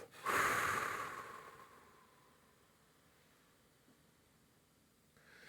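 A person meditating breathes out through the mouth in one long, soft, breathy exhale that fades gradually, close to the listener and otherwise quiet.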